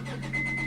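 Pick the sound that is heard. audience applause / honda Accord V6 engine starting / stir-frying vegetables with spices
honda Accord V6 engine starting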